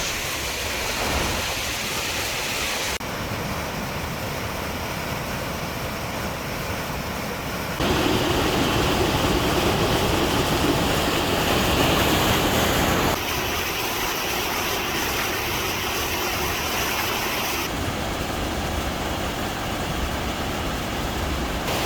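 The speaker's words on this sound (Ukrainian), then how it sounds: "Тут такий вітер від цього водопада. Прям вода падає і створює такий поток, все мокре." A powerful Oregon waterfall roars as water pours down, a loud, continuous broadband rush of falling water and spray that persists without a break, shifting slightly in intensity.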